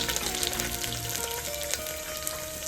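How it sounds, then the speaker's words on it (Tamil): Three cloves of finely chopped garlic frying in hot oil for banana stem koottu, a loud close continuous sizzle with crackling pops, with no talk. "அந்த பூண்டு 3 பல்லு பூண்டு சின்னதாக கட் பண்ணி வச்சிருக்கேன், அது போட்டுக்கிறேன்."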